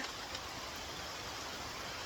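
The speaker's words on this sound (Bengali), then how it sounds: "বৃষ্টি শুরু হয়ে গেছে ভাবলাম যে একটু বৃষ্টিটা কমুক পরেই যাই" Rain falls outside a veranda as a soft, steady wash of hiss, faint and unbroken, with no voices.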